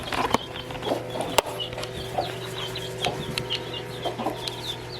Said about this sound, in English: I want to show you one of the older baby chicks. As long as Mama will let me